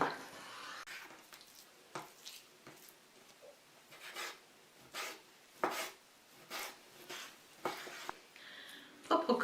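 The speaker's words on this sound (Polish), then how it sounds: "Piersi pokroję na kostkę." A knife dicing chicken breast taps repeatedly against a cutting board, a series of irregular, soft chopping strikes close by in an otherwise quiet room.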